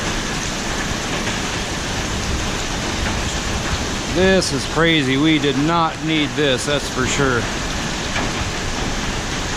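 A severe storm on a farm, with heavy rain and hail pounding down in a dense, constant roar beside an old hog lot. People speak briefly over it midway.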